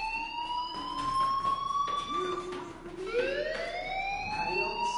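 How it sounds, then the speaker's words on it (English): A school fire alarm in the video game Life is Strange wails steadily with rising, siren-like sweeping tones, looping continuously at moderate volume. "do you hear that fire alarm? That means you should be outside."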